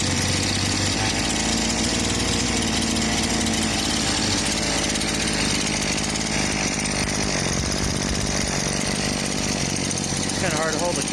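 Jerry-rigged 43cc small engine starting and running, a loud buzzing two-stroke roar held throughout, close up with rough revving and a brief rising whine near the end.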